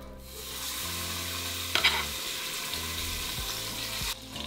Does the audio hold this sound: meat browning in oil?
yes